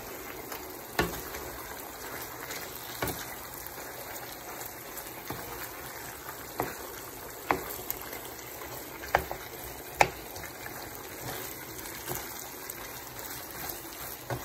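Thick ampalaya con carne sauce, with bitter melon and bell pepper, being stirred in a pan: a steady soft sizzle and bubbling with faint scraping strokes and a few sharper clicks of the spoon against the pan.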